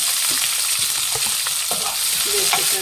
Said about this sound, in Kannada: ಎರಡು ಈರುಳ್ಳಿ ಸಣ್ಣದಾಗಿ ಹಚ್ಚಿರೋಂಥದ್ದು ಹಾಕ್ತಾ ಇದ್ದೀನಿ